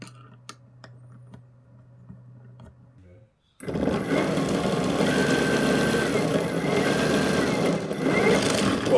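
An electric skateboard motor built from AliExpress parts sits quiet while a few small clicks sound, then starts up and runs in a steady, loud whine and rumble for several seconds.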